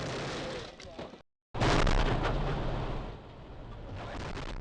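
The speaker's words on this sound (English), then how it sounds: "That loud bang was the sound of a tire bursting, a blowout." A sharp, loud bang of a car tire blowout on a Japanese highway cuts through road noise, followed by a brief silence and then heavy rumbling traffic sound.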